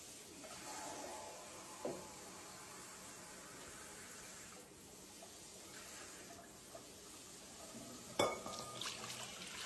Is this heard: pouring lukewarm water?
yes